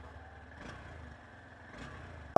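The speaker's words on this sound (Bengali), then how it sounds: "এর আগে আমরা বাইকের এক্সস্ট নোটটা একটু শুনে নিই" A fuel-injected Honda Hornet 2.0 motorcycle idles just after starting, its exhaust a low, steady rumble at moderate distance, ending with a sharp click.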